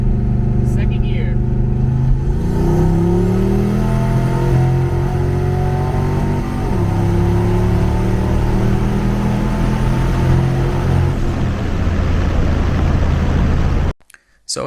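A turbocharged car with its boost controller set to 52%, about 9.5 psi, accelerates hard in second gear with a misfire. The loud engine note rises steadily close to the microphone, then cuts off abruptly near the end.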